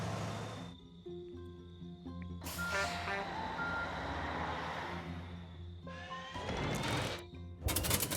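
Truck reversing beeps from the 2013 SimCity city-builder game, a steady repeating electronic tone sounding over a continuous bed of game ambience and engine rumble, loud and in the foreground.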